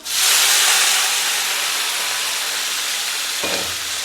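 Curry leaves fry in hot oil, giving a loud, steady sizzle and hiss from start to finish, close by, with a brief clatter near the end.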